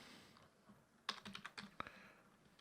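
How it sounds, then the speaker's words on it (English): Keystrokes on a computer keyboard while typing code into an editor, a handful of close, distinct clicks clustered in the middle over a quiet background. "we're gonna go ahead and type in"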